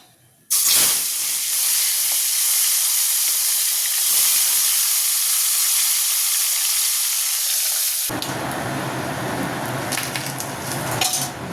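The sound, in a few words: fish frying in hot oil in a wok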